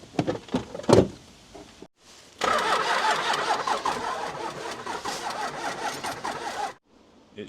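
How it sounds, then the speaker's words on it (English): A Dodge truck engine cranks over on the starter and tries to fire but won't catch. A couple of clunks come first, then a steady, loud, somewhat sluggish whirring crank runs for several seconds before cutting off. "It needs to crank over a little faster."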